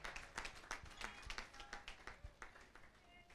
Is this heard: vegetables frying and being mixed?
no